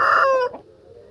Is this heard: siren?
no